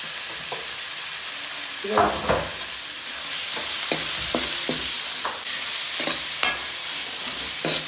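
Curry leaves drop into crushed ginger, garlic and green chili frying for a papaya carrot pickle: a loud, steady sizzle close by, with scattered sharp spatters and stirring scrapes throughout.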